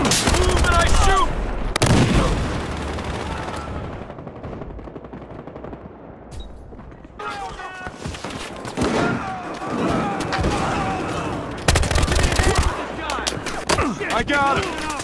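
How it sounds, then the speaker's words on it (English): Famas rifle fire in Battlefield Hardline on PS4: loud bursts of automatic gunfire with sharp single shots and brief lulls between volleys, close and dense, with voices calling out amid the shooting. "I shoot!"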